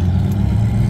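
A Ferrari passing by at a car festival, a loud, close low engine drone that holds steady through the moment.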